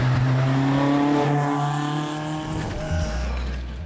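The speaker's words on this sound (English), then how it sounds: "The engine breathes down your neck, and there's no trace of noise insulation." A 1966 Matra Djet 6 BJ sports car engine drones loudly from close behind with no noise insulation, a steady harmonic hum that shifts pitch mid-clip and drops into a deeper rumble near the end.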